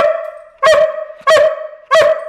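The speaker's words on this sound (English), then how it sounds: "Give me a manly bark." A dog gives three loud, evenly spaced barks close by, each a short honking yelp separated by brief pauses, with no talking.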